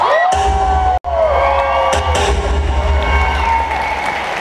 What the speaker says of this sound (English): you have to give this lady a round of applause.